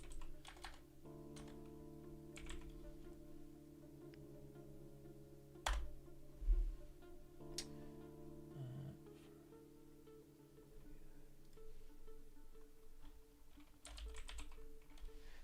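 Clicks of typing on a computer keyboard, quick irregular bursts of keystrokes, quiet and close, over low sustained background music.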